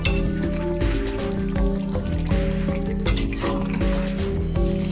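Fried spice paste is stirred into Kolkata-style chicken rezala in a pan, making a steady wet squelching and sloshing with scattered clinks of a spoon against the pan, close and continuous, without speech.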